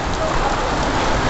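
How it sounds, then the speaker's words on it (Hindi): Heavy rain pouring steadily in Hardoi City, a loud, dense, continuous hiss of drops hitting surfaces close by, with no break and no voices. "बहुत तेज बारिश हो रही है सच्ची में"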